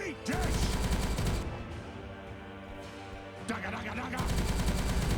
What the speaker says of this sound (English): So now the orc boys are shooting at us